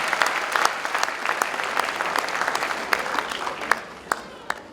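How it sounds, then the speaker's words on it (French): An audience applauds a best actors trophy at an awards event, with distinct, crisp individual claps over a thinner wash of clapping that gradually tapers off toward the end. "Ça s'applaudit, ça s'applaudit."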